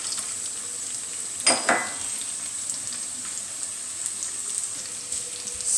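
Peeled almonds cook in a pan with a quiet, steady frying sizzle, broken by two quick scrapes or stirs near the start.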